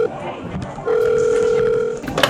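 A steady electronic telephone tone sounds for about a second, close and clear, with brief murmured voices around it.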